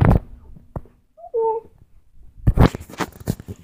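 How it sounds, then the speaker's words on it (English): A pet cat gives a short tonal meow in a quiet room, framed by handling bumps and rustling before and after. "Say hi to my cat."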